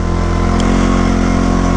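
An ATV quad engine howls steadily while riding, a loud, close, continuous drone with no breaks over the whole short stretch.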